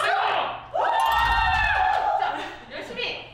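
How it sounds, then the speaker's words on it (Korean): A Zumba and diet dance group in a large practice hall bursts into loud cheering and whoops with clapping, rising sharply and then fading into scattered excited voices. "박수!"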